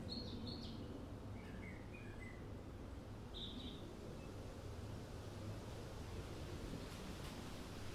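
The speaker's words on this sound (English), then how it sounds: "Listen to the wind blowing." Wind blows outdoors as a steady, soft broadband rush that fills the whole stretch, with faint bird chirps scattered over it early on.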